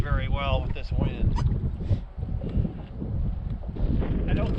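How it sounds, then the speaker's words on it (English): Strong, gusty wind buffets the microphone outdoors on a cold day while fishing from a boat, a loud continuous roar with someone talking over it. "Can't even cast very well with this wind."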